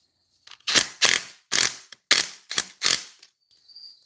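Wrench ratcheting on a power steering line fitting of a 1996–2005 Chevy Astro, six or seven distinct loud bursts of rapid clicking separated by short pauses, close up and clear, with no talking.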